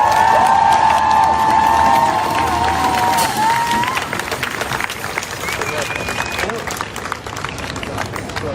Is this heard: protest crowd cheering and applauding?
yes